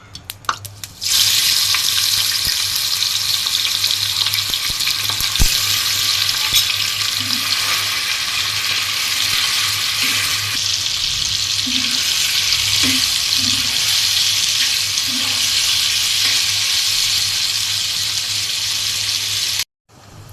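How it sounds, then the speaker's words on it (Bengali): Spice-coated meat frying in hot oil in a home kitchen pan, a loud continuous sizzle and crackle that starts abruptly and holds steady, with a few soft stirring knocks, then cuts off near the end. "গরম তেলে মশলা দিয়ে মাখানো মাংস আমি রান্না করে নিব"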